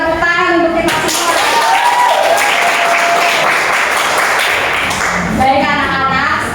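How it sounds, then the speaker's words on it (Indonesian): Schoolchildren in a classroom break into applause led by their teacher. Brisk clapping fills the middle of the moment, with a spoken voice just before it starts and again as it fades. "tepuk tangan untuk kita semua"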